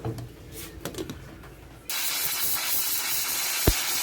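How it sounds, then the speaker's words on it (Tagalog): A pressure cooker cooking meat suddenly starts hissing steam, a loud, steady broadband hiss that begins partway through and continues to the end, following quieter kitchen clatter, with no talk. "nung tumunog na yung pressure cooker, nilagay na natin yung gulay"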